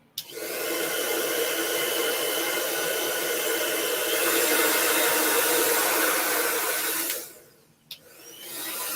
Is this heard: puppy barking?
no